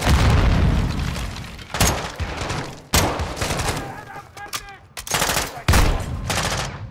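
Grenade blasts and rapid gunfire from the Modern Warfare 2022 campaign come as heavy booms and bursts of shots in quick succession, loud and close, with brief gaps between them.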